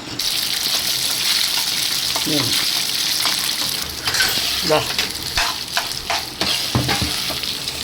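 Cooked rice stirred into a loud, steady sizzling tempering of cashews, peanuts and mustard seeds for sesame rice, with scraping spoon strokes over the continuous frying hiss, no talk.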